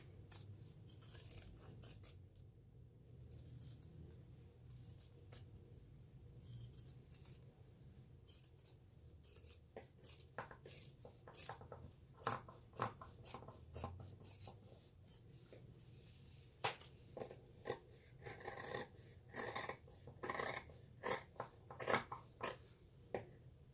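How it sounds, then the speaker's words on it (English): Scissors snipping fabric corners at an angle beside the stitching of a crossbody bag, a quiet, close series of crisp cuts and rustles that grows busier toward the end. "on the corners you want to cut it at an angle as close to that stitching as possible"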